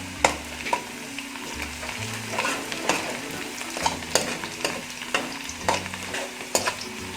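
Onions and herbs frying in oil with green beans and potatoes, stirred by hand: an even sizzle under regular spatula scrapes and taps, close and unaccompanied by speech.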